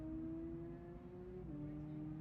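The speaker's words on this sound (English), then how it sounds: "As I hear the cars outside ramping up" Race cars at an SCCA Hoosier Super Tour event at Buttonwillow rev up for the green flag start, a faint, distant droning whine that holds steady and then dips in pitch partway through.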